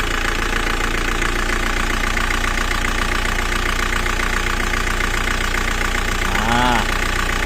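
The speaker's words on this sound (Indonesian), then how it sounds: "Mesin juga lebih anteng, stasioner lebih naik." Diesel engine idling steadily after its fuel pump is primed by hand, a loud and even close-up rumble with a regular knock, and a brief rising whine near the end.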